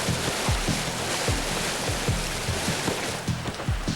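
A completely flooded creek at a garden property rushes and churns continuously, a loud, close, turbulent wash of water with no voices over it.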